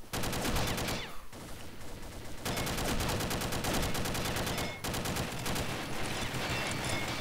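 A UMP submachine gun in the shooter game Combat Arms fires long, loud, rapid automatic bursts up close, with two brief pauses between strings of shots.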